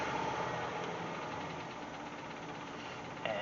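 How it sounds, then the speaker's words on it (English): A Jeep Wagoneer engine idles with a steady low rumble, faint and even throughout, without speech. "And now it's running. So now that's at idle."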